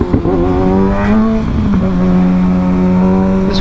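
A 2024 Kawasaki ZX-6R sport motorcycle is heard up close with a loud, steady engine howl. The revs hold high and climb slightly as the bike pulls forward.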